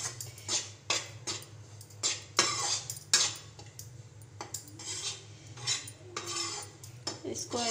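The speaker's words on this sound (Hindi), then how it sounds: "आटे को लगातार भूनते रहेंगे, इसी तरह मिक्स करते हुए" Wheat flour roasting in a pan as a spoon stirs it continuously, giving repeated scraping and clinking of metal against the pan in an irregular rhythm, close and moderately quiet, with no talking.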